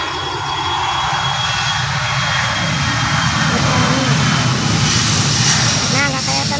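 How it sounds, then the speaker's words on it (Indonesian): TNT airplane engine at night, a loud, steady broadband roar building slightly and holding throughout, with a person speaking over it near the end. "Pesawat TNT mau tulak tapi gelap,"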